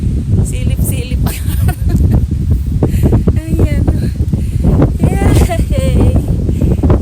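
Strong wind gusts buffet the microphone at a seaside fishing spot, a loud low rumble throughout while someone talks over it.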